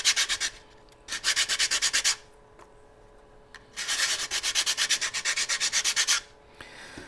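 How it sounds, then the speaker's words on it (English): Two long bursts of dry, rhythmic rubbing strokes, close and fairly loud, separated by a quiet pause, as sandpaper is worked back and forth on the back of a 3D-printed model landing gear hub. "In preparation, I like to just give the back a little bit of sanding."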